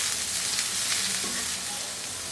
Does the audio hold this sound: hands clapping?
no